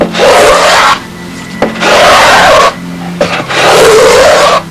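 Three long rasping strokes of a carving tool scraping across wood while roughing out a model B-25 fuselage, each lasting about a second, separated by short pauses.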